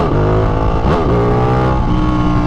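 A newly built Ducati Panigale motorcycle engine revving, loud and close, a sustained throaty drone with a quick blip of rising and falling revs partway through, alone without talk.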